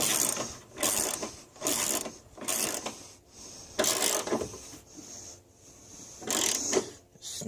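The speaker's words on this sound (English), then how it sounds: "take your ratchet and drive it home" A ratchet tightens the plastic battery hold-down on a 1998 Chevrolet Suburban C1500, clicking in about eight bursts of rapid close pawl ticks separated by short pauses, with no talking.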